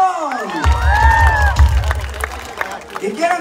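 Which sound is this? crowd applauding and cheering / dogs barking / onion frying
crowd applauding and cheering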